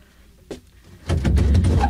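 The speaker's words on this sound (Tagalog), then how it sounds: "buksan ko ng pinto." A door being opened indoors: a small click, then a louder burst of handling and movement noise, near and short.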